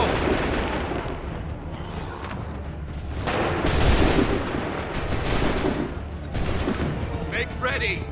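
Musket volleys and gunfire ring out in an Assassin's Creed 3 battle, broad bursts of fire swelling and fading over a constant roar, with shouted commands heard now and then.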